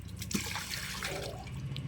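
Fish being rinsed clean in water in a household kitchen, with steady splashing and trickling water close by, no voices.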